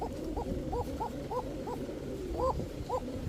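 Basiraj pigeons from a breeding pair cooing close by, a steady series of repeated soft rolling coos at a regular rhythm over a dense low background murmur.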